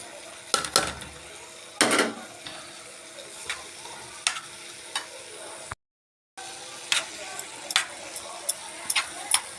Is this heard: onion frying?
yes